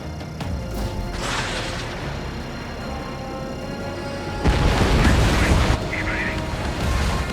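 An enemy bomber explodes after being shot down in the Ace Combat 7 video game, a loud rumbling blast that swells midway over steady jet engine roar, with radio chatter voices.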